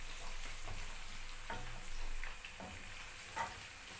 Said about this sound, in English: So you see my onion here now inside my oil.